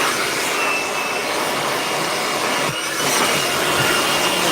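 A steady, loud air blower hisses continuously, blowing sawdust off freshly sanded wood in a woodworking shop, with a brief dip midway before the rush of air resumes.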